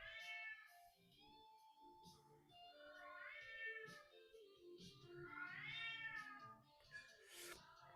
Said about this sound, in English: a cat singing to it in the background